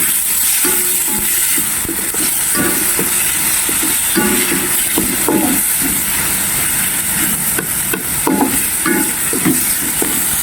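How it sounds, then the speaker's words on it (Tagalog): Tomatoes stirred into a hot frying pan with garlic and onion, sizzling steadily throughout with repeated scraping and clattering of a utensil against the pan, loud and close, with no talking. "Lagyan natin ng kamatis. Halo-haloin."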